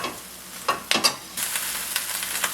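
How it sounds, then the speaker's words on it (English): Brussels sprouts with bacon bits stirred in a hot pan: a few sharp spatula scrapes, then a brighter sizzle and scraping, fairly close. "So I've been stirring about 5 minutes now"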